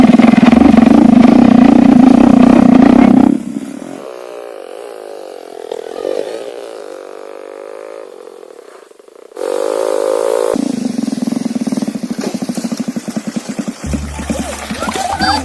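An old motorcycle engine runs loud and rough, then drops and sputters unevenly as it falters, surges back to a steady throaty idle, and cuts out near the end as it stalls; no talk over it.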